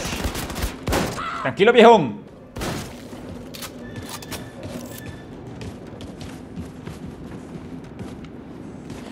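Shotgun blasts in Wolfenstein II: The New Colossus, a few heavy booming shots with a loud burst early on, then a lower rumble of combat noise, with someone talking briefly over it.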